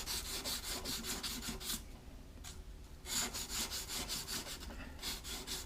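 Sandpaper of 600 grit, wrapped around a round piece of wood, rubs the inside of a ring in quick, steady back-and-forth strokes. The close, soft rasping pauses for about a second midway, then resumes.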